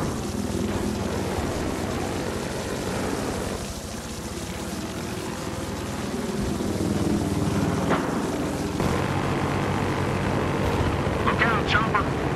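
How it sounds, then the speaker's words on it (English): A police helicopter in the video game Battlefield Hardline drones overhead with steady rotor and engine noise, loud throughout, mixed with game effects and shouting voices. "Suspects in a chopper."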